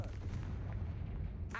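A Confringo blasting spell in Hogwarts Legacy lands as a heavy, rumbling boom that fills the short stretch, loud and low with a brief crackle at the end.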